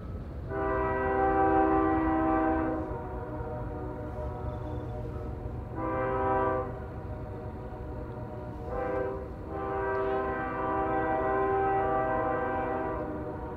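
Horn of an approaching eastbound CSX train in the Potomac River Valley near Green Spring, sounding three long chords with pauses between, fairly distant and echoing over the rumble of the train.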